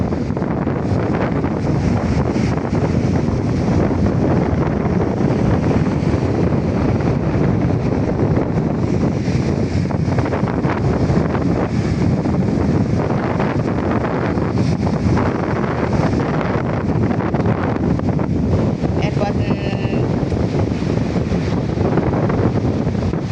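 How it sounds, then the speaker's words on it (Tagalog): Powerful seaside wind roars steadily against the microphone, a dense, unbroken rush with a faint churn of water beneath it. "Very lakas po ng hangin."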